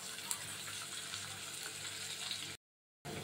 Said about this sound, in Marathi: आणि छान आपल्याला सोनेरी रंगावरती कांदा परतून घ्यायचा आहे.